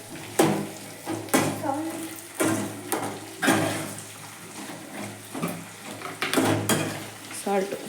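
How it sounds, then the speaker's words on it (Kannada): Round brinjal sizzles and crackles as it fries in plenty of hot oil for ennegai palya, with repeated stirring bursts loud and close in a steady rhythm. "ಈಗ ಎಣ್ಣೆ ನೀಟಾಗಿ ಫ್ರೈ ಮಾಡ್ಕೋಬೇಕು."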